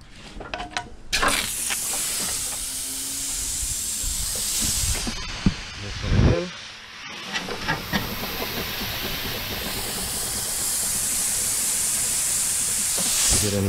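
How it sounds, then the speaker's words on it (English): Car A/C lines being flushed with a DIY flush tool, a steady loud hiss of pressurized spray running nearly continuously, with one brief pause and a thump midway before the hissing resumes. "Now we're gonna go flush the lines."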